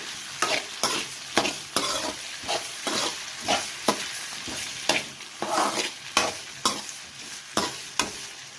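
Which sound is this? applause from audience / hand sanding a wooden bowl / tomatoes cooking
tomatoes cooking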